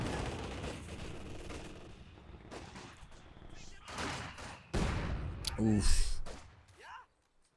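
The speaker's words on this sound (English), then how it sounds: "these mortars really delivering the pain" Mortar barrage in Company of Heroes 2, heard as repeated booming impacts and blasts spread through the clip, several loud hits clustered near the end, with a man's brief exclamation and commentary over the fire.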